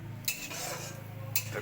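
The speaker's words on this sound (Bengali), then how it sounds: "পোস্তটাকে ঢেলে দিয়েছি, এবার সুন্দর করে একটু নাড়াচাড়া করি।" Poppy seed paste being stirred in a pan for fish curry: two brief scraping clinks of a spoon against the pan over a soft low sizzle, close and fairly quiet.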